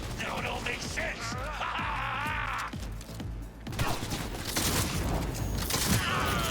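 Gunfire bursts from a shotgun fight in Cyberpunk 2077, sharp repeated blasts and crashes amid busy game noise, with talk running over parts of it.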